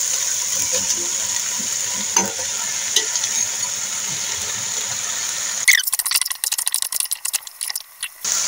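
Zucchini fries with carrot and potato in a pot for a Kazakh zucchini purée soup, sizzling steadily under occasional stirring scrapes. Partway through, a burst of sharper, louder crackling and clattering takes over.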